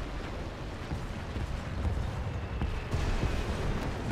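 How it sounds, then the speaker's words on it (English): Rumbling bomb-drop explosion in a tank video game, a steady, heavy low roar lasting several seconds with scattered cracks and debris-like crackle throughout, fairly loud and close. "Okay, good, at least we're safe from that bomb drop."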